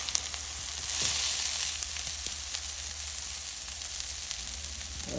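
Onion and rice sautéing in a pan give a steady, close sizzle that runs for the whole stretch, with faint scrapes from stirring and no voices.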